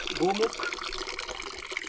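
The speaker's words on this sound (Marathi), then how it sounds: "गोमुखातून पाणी चालू असतं 24 तास" Water pours steadily from a cow-mouth stone spout into a tank on Ajoba mountain, a continuous splashing flow under voices nearby.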